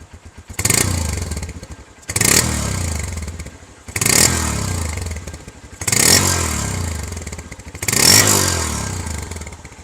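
Honda CB150F motorcycle engine being revved while parked, five loud throttle blips at roughly two-second intervals, each a sharp rising roar that drops back to a rough idle between.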